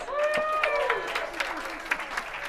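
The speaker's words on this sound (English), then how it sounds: "Let's give a round of applause" Clapping from a small audience rises briefly after a winner is announced at an online show-and-tell, mixed with a voice speaking over it.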